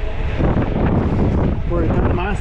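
Wind rushes loudly and steadily past the microphone during a fast descent in an aerodynamic tuck position, a continuous buffeting roar throughout.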